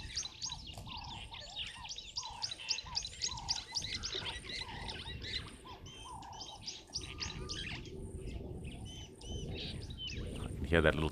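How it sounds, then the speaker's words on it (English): Small birds, likely blue waxbills in a large foraging party, give quick high tweets and chirps in rapid bursts, with a quiet voice and other outdoor sound underneath. "Hear that little tweet that just went on there."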